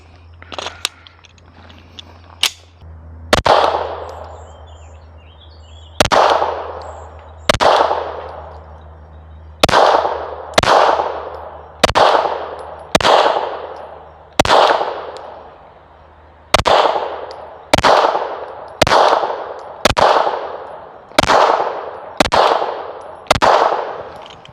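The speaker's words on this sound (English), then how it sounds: "Let's put 15 rounds through it, see how she does." A Mossberg MR920 pistol fires a 15-round magazine outdoors, sharp loud gunshots at an uneven pace with short pauses between shots, each followed by a brief ringing echo, with no talking.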